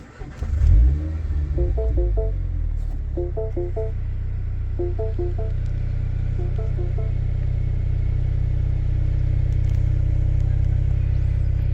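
A 2016 Mini Cooper S with a JCW kit and 6-speed cranks and fires with a short rev flare, then settles into a steady, close rumbling idle, with a few chimes sounding early on.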